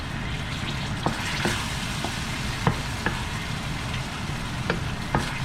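A spoon stirs palm sugar into a sauce at a campsite, a steady soft scraping and swishing under occasional light clinks of utensil against the pot, close and continuous with no talk.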